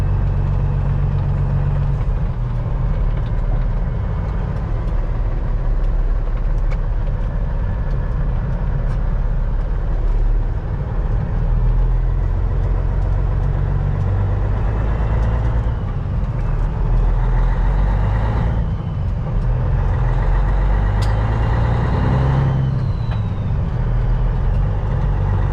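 A truck with a rebuilt 650hp Cat engine sits running while still cold, giving a loud, steady, close diesel idle with a low rumble throughout.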